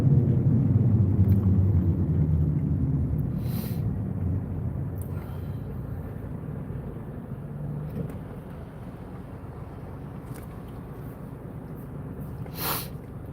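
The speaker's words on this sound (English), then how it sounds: "Yeah, that wind's blowing pretty good." Strong wind buffets a microphone outdoors at Fort Spokane, a loud low rumble that slowly eases, with a few sharp gusty bursts.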